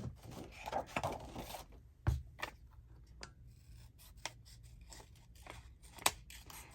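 Scissors cutting out paper for an antique letter-folding writing spot craft: quiet snips and crisp blade closes at irregular intervals, close but faint, with light rustling of paper between cuts and no talk.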